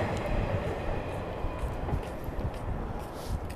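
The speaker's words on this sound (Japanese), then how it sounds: "何の列車だあれ。" A steady rumbling roar of a train passing nearby, continuous and fairly loud throughout, with no talking.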